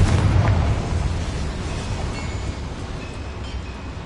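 A Confringo fire-blast spell from a wizarding video game goes off as a single deep boom, loudest at the start and then trailing into a long rumbling roar with no voice over it.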